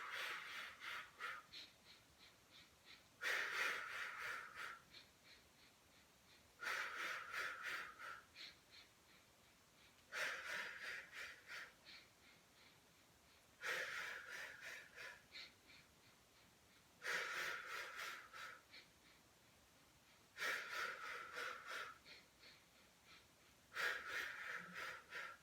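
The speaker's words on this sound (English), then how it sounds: "So inhale to prepare, and then exhale." Slow, deliberate breathing during a beginner Pilates mat exercise with a ring, about seven airy breaths at regular intervals of roughly three to four seconds, each separated by quiet pauses, faint and close.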